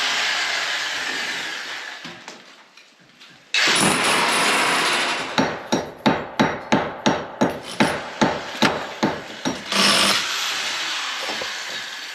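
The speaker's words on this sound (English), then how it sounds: "they're drilling a hole for the ventilation, the fan that will be above the shower" Loud power-tool grinding and a burst of rapid, regular hammering knocks, about a dozen sharp impacts in steady rhythm, with a constant mechanical whine throughout, as a ventilation hole is drilled through a cement wall.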